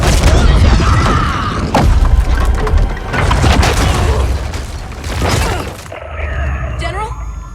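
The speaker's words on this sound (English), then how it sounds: "Cassie definitely shot over 20 bullets from each pistol, and these rifles never ran out either." Pistol and rifle gunfire in the Mortal Kombat 11 fighting game, rapid cracking shots and booms packed densely together, loud and continuous, with impacts and shattering mixed in under voices.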